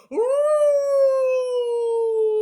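A small dog gives one sustained, close, loud howl that slides slowly downward in pitch and holds steady to the end, with no talk over it.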